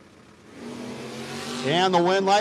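The Sachs & Sons Camaro launches on a drag strip at a No-Box 660 Shootout, its engine note building from a low rumble into a loud, rising roar with harmonic sweeps as it accelerates away.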